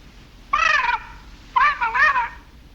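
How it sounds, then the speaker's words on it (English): A parrot squawks twice in a film courtroom scene, two loud, harmonic cries a second apart, standing alone without talk. "the parrot's name is Polly."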